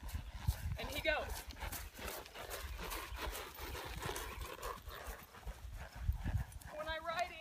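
A horse trots on a riding outing, with steady rhythmic hoof thuds and some tack and ambient noise throughout. A person talks over it at moderate distance.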